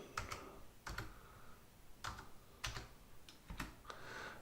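Numbers being typed on a computer keyboard into a retirement spreadsheet, a handful of soft, close key taps in an uneven rhythm, quiet and alone.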